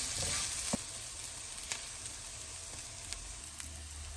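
Ground cumin, coriander, clove and peppercorn fry in hot oil with a steady soft sizzle, and a few sharp scrapes and clicks come from stirring, close and fairly quiet.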